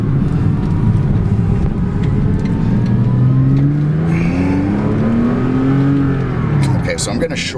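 Engine of a 2006 Porsche Cayman S revving steadily while driving on a road, a loud continuous drone with rising pitch sweeps as it pulls through the gears, and a voice talks over it throughout.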